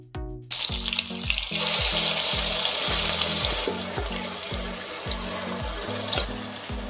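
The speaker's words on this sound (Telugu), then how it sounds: "మంచిగా పోయేంత వరకు అయితే దీన్ని కూడా వేయించుకుందాము" Spice paste sizzles and fries steadily in a hot pan for an ivy gourd curry, a loud continuous crackle with occasional stirring scrapes and no talk.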